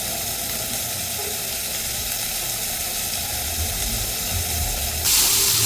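Onions sautéing with salt in a pan for a mushroom roast, giving a steady close sizzle and hiss throughout, which swells into a louder burst of frying near the end.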